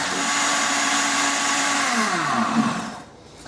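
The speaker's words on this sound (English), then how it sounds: "we'll just mix that on high speed for a moment" A blender whirs on high speed through crepe batter made with eggs, a loud steady motor drone that shifts pitch near the end before spinning down and stopping.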